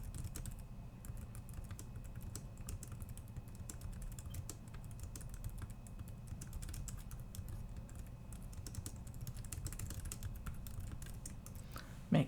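Continuous rapid tapping on a computer keyboard, close and quiet, with a steady irregular rhythm of keystrokes and no talking.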